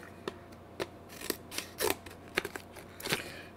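Scissors cut open plastic thumb-drive packaging in about nine quick, crisp snips, close up and faint, alone with no talk.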